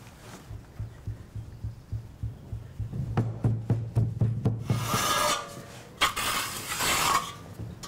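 Foundry sand being packed by hand around a pattern inside a cast-iron flask for casting a telescope mirror: a run of close, rhythmic thumps and rubbing scrapes, followed by louder gritty rasping bursts, with no talk.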